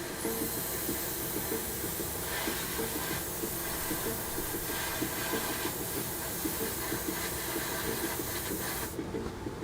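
An airbrush sprays a second coat of paint onto a 1/48 Hasegawa F-22 Raptor model kit, giving a continuous close hiss with faint mechanical rattling that cuts off near the end.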